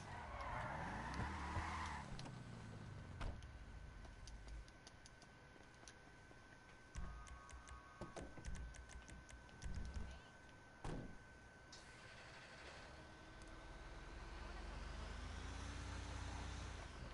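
Car driving in the video game GTA V, with a steady engine drone and occasional tire noises and impacts, loud throughout, while a person talks intermittently over it.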